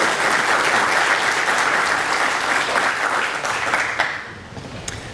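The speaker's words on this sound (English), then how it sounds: "So please give him a huge round of applause" A live audience claps warmly for a speaker, a thick sustained round of applause that tapers off into a few scattered claps at the end.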